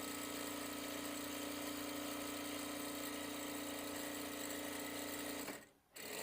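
A Daisen sewing machine, low in noise and vibration, sews fabric with a steady, close, humming motor drone and even stitching whir for several seconds before stopping abruptly near the end.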